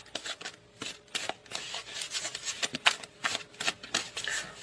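A deck of cards being shuffled during a tarot reading, with rapid riffling bursts and soft flutters repeating close by, no talking.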